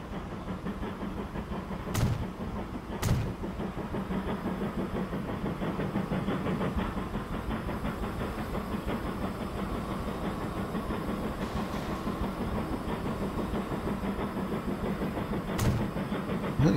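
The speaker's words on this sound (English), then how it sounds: "Small trains running down here." Trains run in the video game Transport Fever 2 on a Greater London map, a steady, moderately quiet rumbling and hissing with a few sharp clicks, and no talk.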